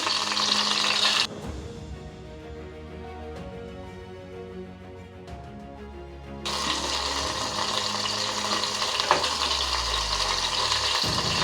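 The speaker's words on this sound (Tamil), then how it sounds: "இப்போ இதில் நம்ம வெங்காயத்தை போட்டுற போகிறோம்" Onions sizzle loudly in a pan for brinjal curry. The bright hiss drops away for several seconds, then returns strong and steady, heard up close with no one speaking.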